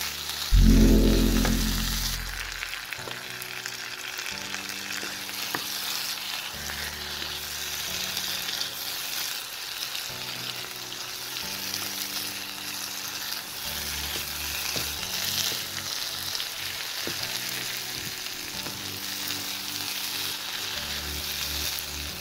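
Chickpeas fry in a pan for a chana bhuna, sizzling steadily with an initial loud burst and then continuous crackle, while a spoon stirs and scrapes at intervals.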